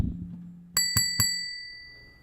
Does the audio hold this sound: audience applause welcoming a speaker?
no